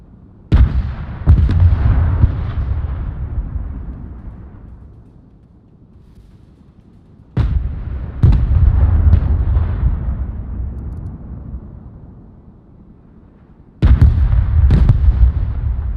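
An M1 Abrams-style tank cannon firing in the Broken Arrow strategy game, three heavy booms spaced several seconds apart, each followed by a long rumbling decay, loud and close.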